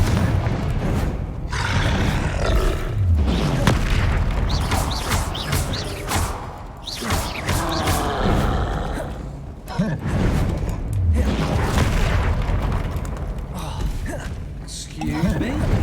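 Explosive spell blasts and magical combat booms from the video game Hogwarts Legacy, including the Confringo fire spell, thud repeatedly amid game grunts and effects.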